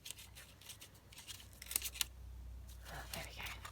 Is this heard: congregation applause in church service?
no